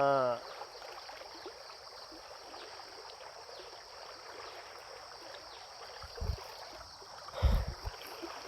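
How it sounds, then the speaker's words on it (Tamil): Floodwater rushing down a rain-swollen mountain stream in the forest foothills, a steady broadband roar running throughout, with a voice briefly at the start and a couple of louder bumps near the end. "அப்படியே பாருங்க நல்லா தண்ணி போயிட்டுருக்கு"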